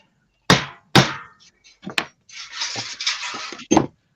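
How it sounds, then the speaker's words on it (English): A hammer strikes a piece of copper metal to emboss a design, sharp metallic blows close by with a scraping, rattling stretch of metal in between, ending on one last hit. "Let's hammer a design into it."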